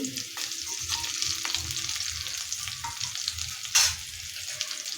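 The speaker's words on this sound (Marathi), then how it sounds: "हेही आपल्याला दोन मिनिट परतून घ्यायचं आहे लसूण आणि खोबरं थोडंसं लाल होईपर्यंत कमी गॅसवरतीच परतून घ्यायचं आहे" Chopped garlic and grated coconut sauté over low heat in a pan, giving a steady close sizzle with a brief louder scrape of stirring near the end, and no talking.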